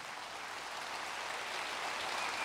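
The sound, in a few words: audience applauding at a lecture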